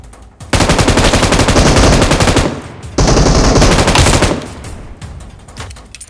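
Loud, rapid automatic fire from a DBS gun in PUBG Mobile, two long sustained bursts close up, separated by a brief gap and trailing off into fainter shots.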